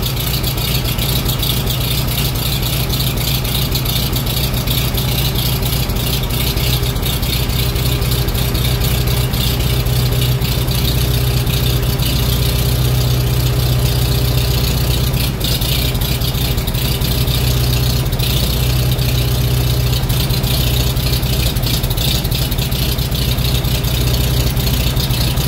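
A 1941 Farmall M tractor engine runs on full choke after a cold start in 20-degree weather, a loud, steady, close low idle with a faint rattle throughout and no talking.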